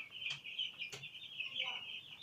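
Poultry on a Nigerian farm cluck and chirp close by, a steady chorus of hens with a few sharper calls standing out over a quiet background.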